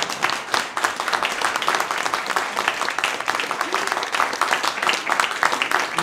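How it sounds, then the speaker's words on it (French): A crowd at a Beaujolais Nouveau launch press conference breaks into loud, dense, continuous applause, many hands clapping at once and sustained for the full stretch. "Applaudissez très fort."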